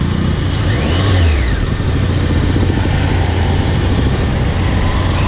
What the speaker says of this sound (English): This was a short test ride of me riding the Tiger.